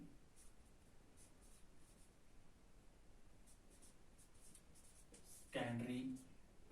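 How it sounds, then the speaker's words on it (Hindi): Pen strokes from someone writing capital letters by hand, a faint scratching rhythm of short repeated marks under quiet room noise, broken near the end by a brief voice. "ये हमें कैपिटल लिखना है"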